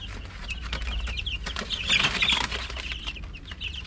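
Hungry young roosters in a backyard flock, scattered clucks and soft chirps with shuffling and pecking, close and busy, no talk.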